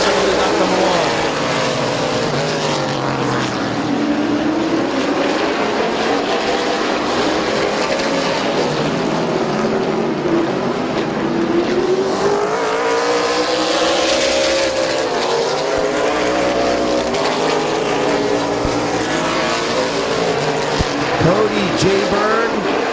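Race cars at Midvale Speedway roar around the turns, engines whining and sweeping up and down in pitch as they pass, loud and continuous under a commentator's voice.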